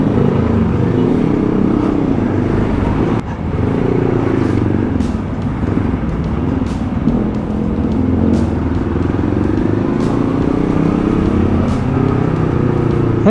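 A motorcycle rides through heavy traffic, its steady engine drone loud and close throughout, with other vehicles rumbling around it and brief clatters and shifts in engine pitch.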